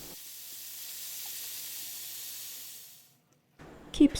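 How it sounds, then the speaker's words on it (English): Minced beef hits hot vegetable oil in a fry pan at medium heat, giving a soft, steady hiss that fades to near silence before a brief burst of clattering at the end. "Heat up the fry pan at medium heat. Add some vegetable oil. Add the minced beef."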